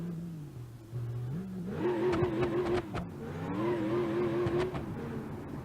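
V8 engine in BeamNG.drive revving up from a low idle, its pitch climbing and holding in two strained, screaming surges close up, with no talk.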